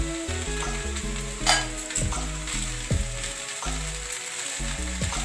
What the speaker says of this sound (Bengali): জল ঝরিয়ে রাখা চিড়েটা এখানে আমি দিয়ে দিচ্ছি।